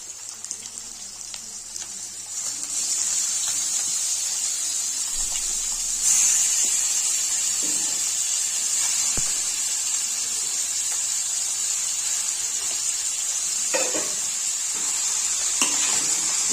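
Steady hiss and sizzle of chicken liver and onions frying in a pan, continuous and close, with occasional clinks of a utensil stirring.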